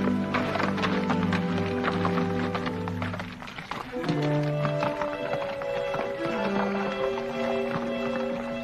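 A horse's hooves clip-clop at a steady walking rhythm near a creek in a Western cowboy film, close and distinct throughout, with a musical score playing beneath.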